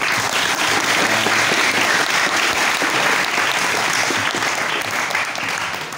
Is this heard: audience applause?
yes